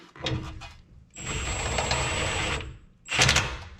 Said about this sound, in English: Now I've got the torque wrench, the impact wrench turned on low, and I'm gonna push down.